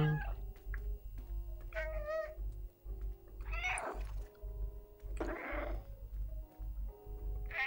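Cat meows from the video game Stray, several distinct mewing calls spaced across the stretch over a steady low game music or ambient hum, fairly close and clear.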